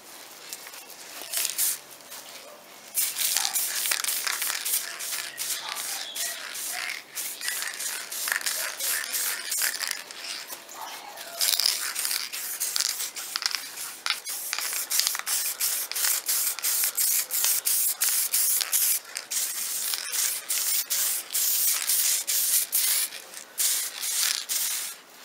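Varnish is sprayed onto a painted bicycle handlebar in repeated hissing bursts of varying length, fairly close and moderately loud, separated by brief pauses and faint handling noises.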